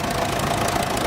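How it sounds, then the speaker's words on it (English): A Fordson Major tractor engine runs steadily nearby, a continuous knocking, idling rumble that holds at an even loudness throughout with no voices. "Another Fordson Major here"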